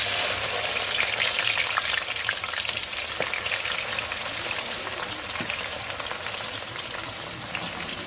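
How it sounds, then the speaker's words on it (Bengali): Chopped onion sizzling in hot oil in a heated kadai while cooking a country chicken curry, a steady, close, continuous crackle with occasional faint stirring clinks, no talking. "তেলটা গরম হয়ে গেছে, এবার পেঁয়াজ কুচি দেবো।"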